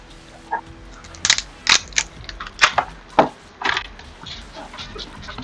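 Tarot deck packaging being unwrapped and torn open, giving a series of sharp crinkling, snapping bursts at irregular intervals, close and fairly quiet.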